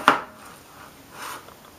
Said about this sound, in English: let me just show you how my chopping wizard does